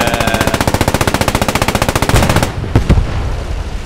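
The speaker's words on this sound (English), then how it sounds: "I'll just hold the machine gun down" A machine gun fires a long rapid burst in the World War II game Post Scriptum, loud close rhythmic cracks about a dozen per second, ending with a couple of heavier thuds.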